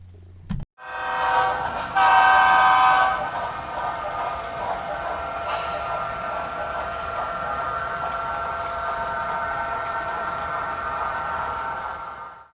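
HO scale model train on a Baltimore and Ohio Railroad layout running: a brief knock, then a steady mechanical whir and hum with a horn-like tone swelling near the start, continuing evenly for several seconds before cutting off.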